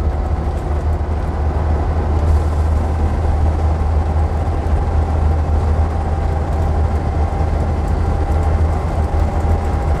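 A Leyland National bus being driven on the road, its engine a steady, loud low drone with continuous rumble and road noise and no break or change throughout.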